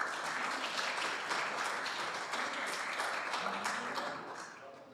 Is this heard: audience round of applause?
yes